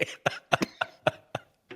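A burst of repeated coughs, about seven sharp hacks in quick uneven succession, close and fairly loud.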